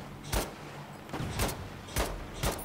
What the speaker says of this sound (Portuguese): Onde é que os caras estão atirando?